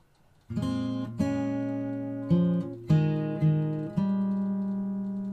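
Slow fingerstyle guitar playing bar 16 of a piece, a handful of plucked notes and chords ringing out one after another with long sustain, close and clear with no talking.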